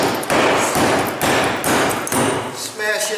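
A hammer strikes a concrete building block repeatedly, about five heavy, evenly spaced blows close up, followed by a brief metallic ring.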